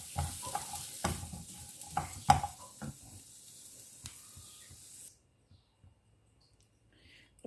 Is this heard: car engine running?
no